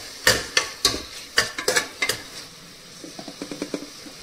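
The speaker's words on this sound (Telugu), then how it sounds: "ఇప్పుడు ఈ టమాటాలను కాసేపు ఉడికించుకోవాలి" Tomatoes cooking in a pan as a utensil stirs them, giving a run of sharp scraping taps over a soft sizzle, then lighter, quicker stirring taps.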